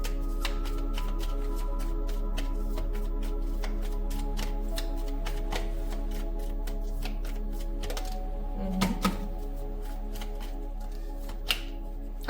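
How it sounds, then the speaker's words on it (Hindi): Tarot cards shuffled by hand in a rapid, steady run of crisp riffling clicks and flutters for the whole stretch, with a few louder slaps of the deck near the end; close and fairly quiet, with no talking. "if you can bear with me in the shuffling of cards"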